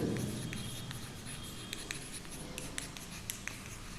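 Pen or marker writing numbers during a math lesson, a faint run of light scratchy strokes and taps, close up over a low room hum with no speech.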